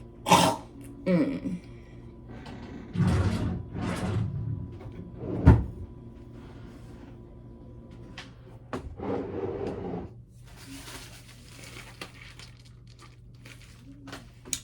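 Several harsh coughs and throat-clearing bursts come in bunches, close and loud, followed by quieter rustling and shuffling.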